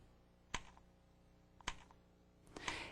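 A stylus taps the on-screen keyboard of a 1994 Apple Newton, giving three sharp, quiet clicks spaced about a second apart, with no voices.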